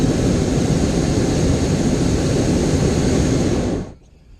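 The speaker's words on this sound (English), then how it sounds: "you hear the hiss of the pilot lights. The blast of the burner about every 8 seconds or so" A hot air balloon's propane burner roars steadily and loudly at close range during a flight at the Albuquerque Balloon Fiesta, a broad continuous blast that cuts off abruptly near the end and leaves a quiet hiss behind.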